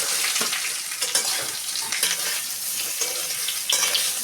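Dhokla is stirred and tossed in a hot pan with chillies, a loud continuous sizzle broken by repeated scraping and clattering stirs at a loose, irregular rhythm, close up.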